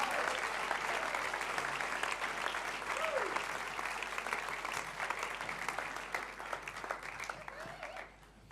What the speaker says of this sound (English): Why don't we give them a round of applause as they come?